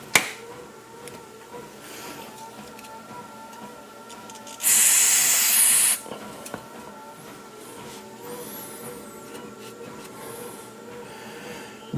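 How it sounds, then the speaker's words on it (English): A short, loud burst of spray cleaner hisses for about a second into a hole during work on an F-350 steering system, set against a steady low background hum with faint handling noises. "I'm going to clean this hole out so it's nice and clean. Use some of this cleaner."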